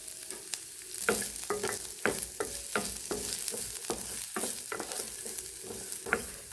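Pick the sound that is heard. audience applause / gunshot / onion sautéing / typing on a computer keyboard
onion sautéing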